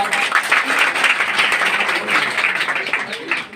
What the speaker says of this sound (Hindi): उनके लिए जोरदार तालियां।